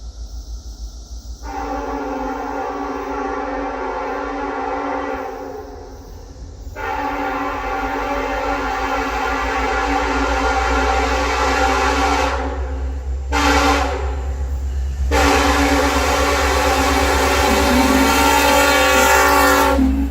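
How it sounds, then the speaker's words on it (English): Norfolk Southern train NS 955 hauling Norfolk & Western 611 steam locomotive passes through Sharpsburg, Maryland, loud and close, with long sustained horn or whistle blasts broken by brief gaps over a steady rumbling roar of rolling cars. "here is the video of NS 955 passing through Sharpsburg, Maryland with the N&W 611 on its way to Strasburg, Pennsylvania"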